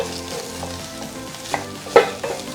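Chopped onions frying and being stirred in a pan as the base for a beef stew, a steady sizzle with a few sharper clacks of the spoon against the pan, close and with no talking.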